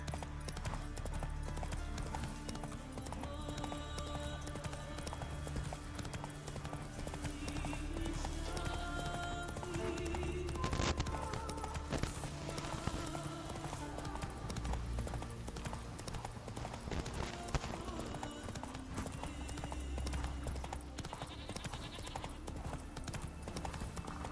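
Roach, the horse in The Witcher 3 game, gallops with rapid rhythmic hoof clip-clops over a continuous bed of game music and ambience, steady and moderately loud throughout.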